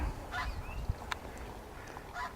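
Wildfowl at the Wexford Wildfowl Reserve: a few distant goose-like honks scattered over a couple of seconds against faint outdoor background noise, with no talking.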